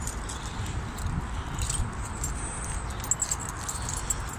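Keys jangle and click as they are fitted into the ignition of a Ford Escort van, a few faint metallic taps near the end over a quiet background hum.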